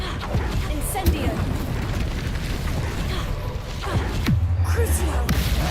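An Incendio fire spell cast in Hogwarts Legacy, a burst of whooshing flame with a low boom amid ongoing game sounds and a spoken voice.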